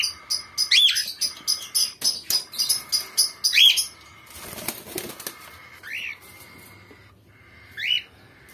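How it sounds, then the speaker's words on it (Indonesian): Songbirds, canaries among them, chirp in an aviary, giving bright repeated tweets and short rising calls over soft flapping and rustling, close and fairly loud, with gaps between bursts. "kalau pengen punya kicauan apa, burung kicauan, khususnya kenari"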